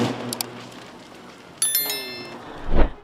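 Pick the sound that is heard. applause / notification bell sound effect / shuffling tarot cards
notification bell sound effect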